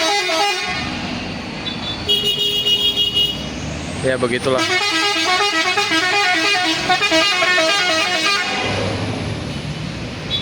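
Traffic roars continuously beside an intercity highway while buses and cars honk their horns several times, some blasts long and loud. A person speaks briefly over the din.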